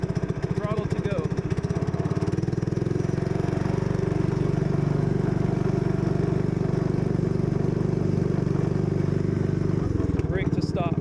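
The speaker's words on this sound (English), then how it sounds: "Once the engine warms up, you have the throttle to go and the brake to stop." A 1941 Willys go-kart's small engine runs steadily nearby with a buzzy, continuous putter, holding an even idle throughout with a brief change near the end.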